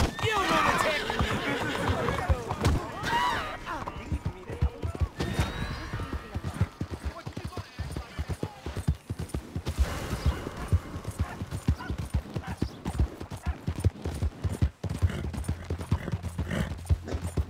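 A horse in the video game Red Dead Redemption 2 gallops with rapid, continuous clip-clopping hoofbeats, and a whinny rises near the start, all under voices and game sounds.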